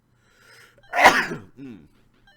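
A single loud, close sneeze from a congested person, sharp burst followed by a short breathy trailing sound, in an otherwise quiet room.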